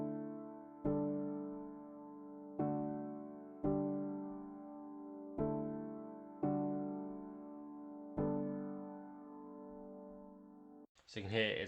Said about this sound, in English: This is the piano chord progression that I started this track with.